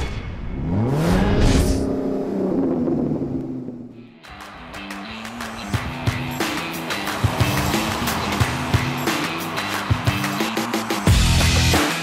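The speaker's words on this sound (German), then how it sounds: "Wir sind jetzt unterwegs mit dem VW Amarok." A VW Amarok 3.0 V6 TDI Aventura pickup on a drive: a steady engine and road drone heard from inside the cab, with an early rise in revs, then a continuous hum with scattered clicks and thumps.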